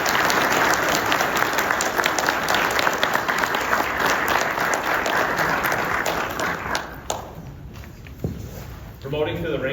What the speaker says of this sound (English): And a round of applause for Lieutenant Zarletti.